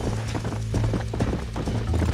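Horse hooves gallop in a steady, loud clip-clop rhythm in the video game Red Dead Redemption, with music or ambience underneath and no talking.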